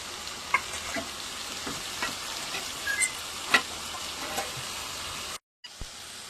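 Water spinach (kalmi shak) frying in a pan: a steady, close sizzle broken by scraping stirs at irregular intervals, dropping to a brief silence just before the end before the sizzle resumes.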